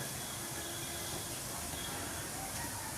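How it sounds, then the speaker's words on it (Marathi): Potato bhaji (aloo pakoras) frying in hot oil, giving a steady, dense sizzling hiss that stays loud and even throughout with no voices. "आपण भज्या ज्या आहेत ते सगळ्या तळून घ्या"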